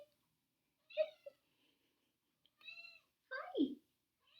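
A pet cat called Sparrow gives several short, separate meows with gaps between them, fairly close and quiet, the last one a longer, falling call.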